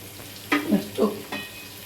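Vegetables with chili powder frying in oil for vegetable pulao, with a few short stirring bursts and sizzles separated by quiet gaps, fairly close.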